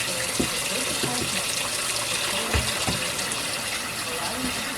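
Tap water runs steadily into a kitchen sink holding jars, a continuous splashing gush with occasional clinks and knocks of glass, close and fairly loud with no talking.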